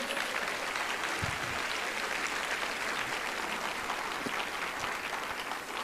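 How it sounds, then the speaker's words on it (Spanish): A church congregation gives continuous, even applause, a steady wash of clapping heard at moderate distance without a break. "dale un fuerte aplauso"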